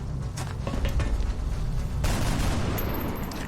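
Weapon fire in the video game XCOM: Enemy Within, a dense burst of loud gunshots that runs into a sustained rattle and a second heavy volley with a mechanical ring at the end.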